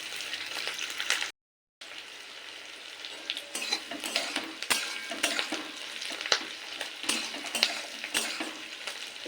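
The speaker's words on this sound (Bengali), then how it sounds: "পেঁয়াজ ক্যাপসিকাম একটু জাস্ট নেড়ে নিয়েছি" Onion and capsicum are stir-fried in a pan for chilli soyabean, a soft, steady sizzle under repeated scraping and clinking of a spatula, close by, with one brief gap of silence early on.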